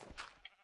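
A sheep in the video game Minecraft gives a short, faint, breathy bleat, heard alone and quickly fading.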